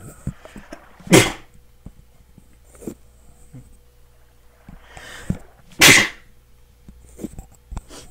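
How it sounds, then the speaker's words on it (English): Two loud, sharp sneezes burst out about five seconds apart, close to the microphone, with quieter clicks and small noises between them. "I think I just took a sneezing fit"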